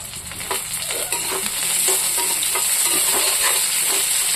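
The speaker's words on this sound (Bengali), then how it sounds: "পেঁয়াজটা একটু লাল লাল করে ভাজবো। আর এইখানে দিচ্ছি এই যে কাঁচা লঙ্কা," Onion and green chili frying in oil in a pan for a home-style fish and cucumber curry, a steady close sizzle with soft stirring scrapes running throughout.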